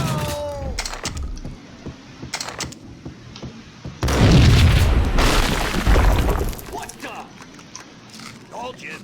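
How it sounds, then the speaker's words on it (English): Bomb blast in Max Payne, a sudden heavy boom that rolls on for a couple of seconds, preceded by sharp clicks and gunfire-like cracks, with people talking around it. "I thought it was a bomb for sure"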